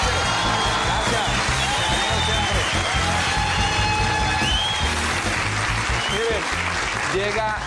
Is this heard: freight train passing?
no